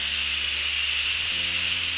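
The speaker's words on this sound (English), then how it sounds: "we're going to remove any leftover steam." An Instant Pot releases leftover steam after pressure-cooking Mexican pinto beans: a loud, steady, close hiss runs unbroken through the whole stretch, with no voices.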